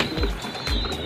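A racing pigeon, the offspring of a bird named Bagsik, coos loudly in two low throaty pulses, close by, with no voices.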